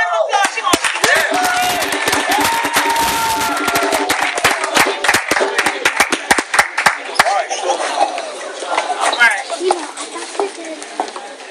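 An audience at a motivational talk breaks into loud, sustained applause, dense clapping that swells and then thins out over about ten seconds, with voices mixed in.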